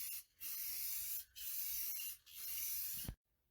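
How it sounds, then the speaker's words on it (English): Matte clear coat sprayed onto a restored 1951 Pushover machine: three long, steady hissing bursts of spray close by, separated by brief pauses, ending abruptly in quiet. "I don't have to be very, very particular of how I spray it."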